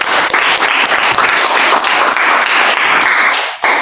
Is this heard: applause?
yes